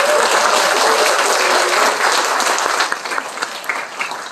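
Loud, sustained applause from a seated audience at a Korean political party labor committee launch and lecture in Cheongju, dense clapping throughout that thins slightly toward the end.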